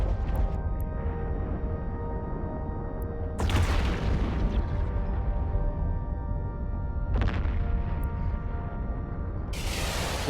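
Spaceship weapon volleys firing in the space game Eve Online, heavy booming blasts at two separate moments over a steady dense rumble of ship and ambient noise, close and loud, with no talking.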